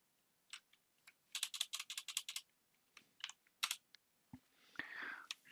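Keys on a computer keyboard clack in quick bursts, with clusters of crisp, close taps separated by short pauses and a soft rustle near the end.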